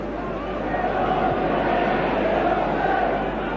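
Capacity football crowd at Dens Park for Dundee v Dundee United, a broad steady roar of distant massed voices and chanting filling the ground, with a commentator talking over it.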